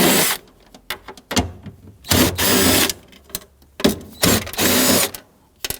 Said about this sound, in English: we're going to go ahead and loosen and remove these 4 10mm nuts